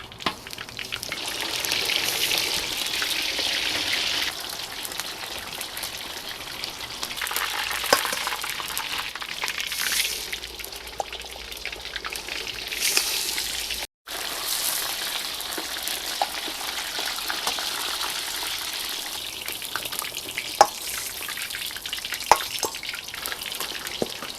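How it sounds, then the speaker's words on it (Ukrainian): Veal pieces fry in hot oil in a kazan, a steady, dense sizzle and crackle that holds throughout, close and fairly loud, with a brief drop in the middle and no talking. "закладаємо м'ясо в невеликій кількості, щоб не зменшувалася температура масла"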